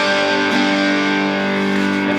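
An electric guitar plays through a Line 6 Spider IV 30 amp set to the blues channel, ringing out in a loud, sustained, slightly gritty chord with no voices over it.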